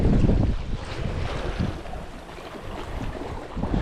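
Strong wind gusting across seaside rocks during rock fishing on the UK coast, buffeting the microphone with low rumbling surges, loudest at the start and end, with the sea faintly underneath and no talk.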